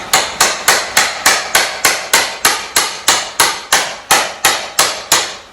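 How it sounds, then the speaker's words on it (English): A hammer strikes a wooden pallet board about sixteen times in a steady, quick rhythm, each blow a sharp close knock with a short ringing decay. "Quite simply, use my hammer."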